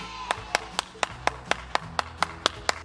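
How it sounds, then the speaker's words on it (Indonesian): Steady hand clapping at a children's church gathering, about eleven sharp, evenly spaced claps from a single nearby source, with faint background hum between them. "Tepuk tangan yang meriah."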